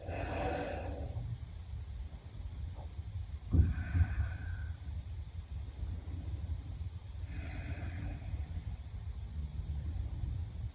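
Slow, soft breaths taken while resting in a yoga child's pose, faint and close with a few distinct inhales and exhales spaced seconds apart over a quiet background.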